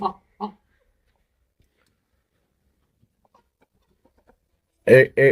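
Brahma hens and a rooster on a farm in Thakurgaon give two short, close clucks. A quiet pause follows, then a louder clucking call comes at the end.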